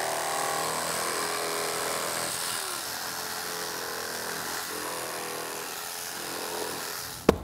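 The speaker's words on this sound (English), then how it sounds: "I don't have one, so I'm gonna go with the electric knife." An electric knife buzzes steadily while cutting through EVA foam, a continuous motorized whine that holds for several seconds before a sharp click as it stops.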